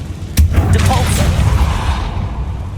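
A Depulso force spell is cast in Hogwarts Legacy. A sharp impact thump lands early, and a dense whooshing, rumbling burst follows and carries on loud to the end, with some voice blended in.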